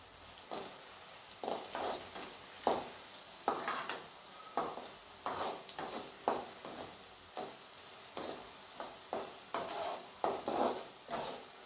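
Garlic sautéing in a pan, stirred with repeated scraping and clinking strokes in a steady rhythm over a soft sizzle, close but fairly quiet, with no talking.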